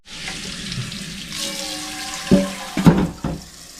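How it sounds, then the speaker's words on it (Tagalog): Tap water runs steadily into a sink while dog food bowls are washed at home in Edmonton, Canada, a close, continuous hiss with a few louder clunks and splashes from the bowls near the end. "Hugasan ko yung mga lagayan ng pagkain nila"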